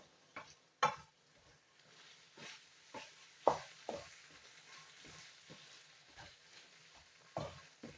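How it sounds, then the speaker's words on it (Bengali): Chickpea biryani stirred in a pan, soft intermittent scrapes and knocks of a spoon against the pan over a faint low sizzle, fairly quiet and close. "তো কিছুক্ষণ নেড়ে নিচ্ছি, দেখেন তো কিভাবে নেড়ে নিচ্ছি আমার।"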